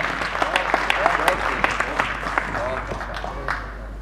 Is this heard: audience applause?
yes